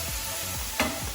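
Onions frying in a pan at home, a steady low sizzle with a few soft stirring scrapes and one brief brighter clatter near the end.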